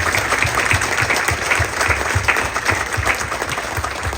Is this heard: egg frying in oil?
no